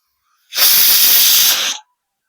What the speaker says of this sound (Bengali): চারটে সিটি মারা হয়ে গেছে আর একটা মারলে এবার নামিয়ে দেবো